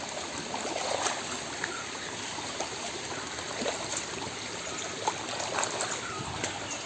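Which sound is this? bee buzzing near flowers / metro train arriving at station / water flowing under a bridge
water flowing under a bridge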